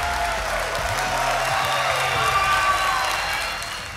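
A large audience at a business coaching event claps and cheers, a loud continuous wash of applause with crowd noise throughout.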